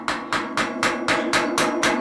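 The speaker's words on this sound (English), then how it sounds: "we're going to tighten it again with a screwdriver and a hammer using these little notches here" Steady hammer taps on a screwdriver set in the notches of a 60-year-old Sturmey Archer three-speed bicycle hub, tightening the part: seven sharp, evenly spaced metallic strikes over two seconds, close and loud, with no talk.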